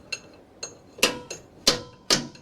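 Sharp metal blows from a hammer striking a stuck carriage bolt on a cheap piece of equipment, six distinct close hits spaced about half a second apart, with no talking.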